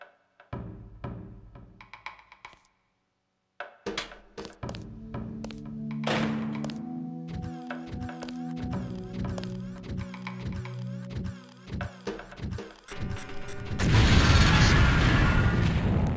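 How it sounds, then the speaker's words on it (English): In the Deus Ex game, a demolition mine is placed against a wall. Tonal electronic beeps and thunks build up before a loud, noisy blast closes the sequence, with no talk. "Get as close to the wall as possible when you place the lamp. If you aren't close enough, the lamp will fall to the ground and detonate."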